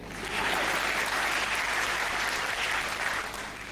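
An audience at a Hindi comedy poetry show (hasya kavi sammelan) breaks into sustained applause, a dense wash of clapping that swells, holds steadily for a few seconds, then tapers slightly.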